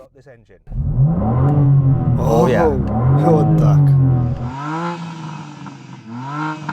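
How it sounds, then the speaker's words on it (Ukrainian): A BMW M4 CSL sports car engine starts and revs loudly, rising and falling in pitch several times, with brief exclamations from people nearby. "Перед гонкою давайте послухаємо цей двигун."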